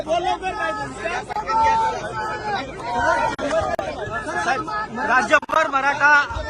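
Crowd of Maratha community protesters celebrating in Maharashtra, a dense babble of many voices and cheering chatter that rises and falls throughout, close and loud.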